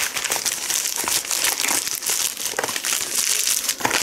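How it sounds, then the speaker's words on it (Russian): Clear plastic packet of chia seeds being pulled apart and handled, with continuous close crinkling and crackling of thin plastic in uneven bursts, no voices. "Я его потянула в разные стороны, и он открылся."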